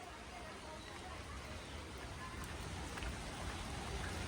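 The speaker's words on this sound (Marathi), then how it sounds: "पाऊस का आराम घेत नाही" Steady, hissing rainfall pours down continuously, a dense even wash of drops with no pauses.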